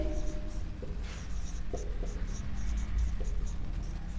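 Chalk or marker scratching on a classroom board as a teacher writes, close and continuous, with a voice speaking over parts of it.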